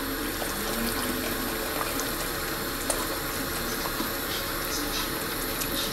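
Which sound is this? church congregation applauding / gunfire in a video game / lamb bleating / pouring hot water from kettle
pouring hot water from kettle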